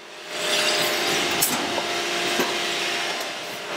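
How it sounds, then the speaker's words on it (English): Automatic vinyl record press running in a pressing plant, a constant loud mechanical hum with a faint steady tone, occasional knocks and clunks, and hissing air, no talk. "right now we're actually pressing records"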